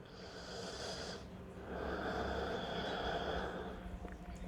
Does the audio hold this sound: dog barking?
no